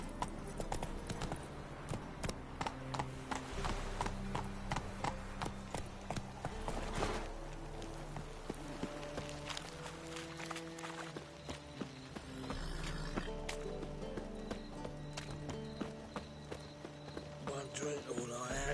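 Roach the horse galloping in The Witcher 3, rapid rhythmic hoofbeats running throughout alongside game music and occasional voices.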